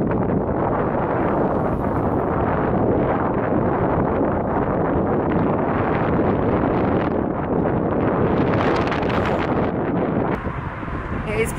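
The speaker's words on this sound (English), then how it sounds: "It is pretty windy actually." Strong gusty wind buffeting the microphone outdoors, a loud continuous roaring rush with surges in intensity throughout.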